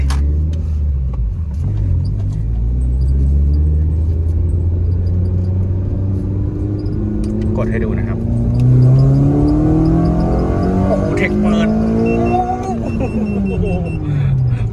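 A Ford Fiesta fitted with a K24 engine and a 5-speed manual gearbox drives along with a close, steady engine rumble. The engine then revs up with a rising pitch as the car accelerates, and someone talks over it.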